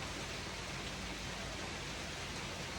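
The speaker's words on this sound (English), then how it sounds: "just watching the rain come down. It is really coming down." Heavy rain falling outside a cabin porch: a dense, steady, even hiss of downpour that fills the whole stretch, with no talk over it.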